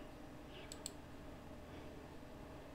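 A pair of quick, faint computer mouse clicks over a low steady hum, heard on their own.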